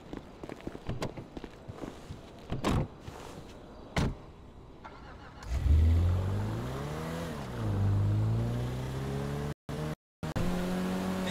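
A car being driven in GTA 5, heard first as scattered thumps and clicks, then an engine starting loudly and revving up and down through its gears, with short dropouts near the end.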